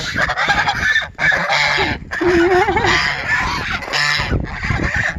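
A flock of geese honking loudly and continuously up close, with overlapping harsh calls and short breaks in a village farmyard setting.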